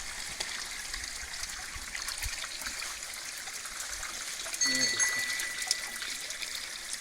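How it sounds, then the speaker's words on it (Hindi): Water trickles and seeps down mountain rocks at a pilgrimage spot, a steady, moderately faint babbling stream with a brief louder splash partway through. "पानी देखो पहाड़ों में से पानी रिस रहा।"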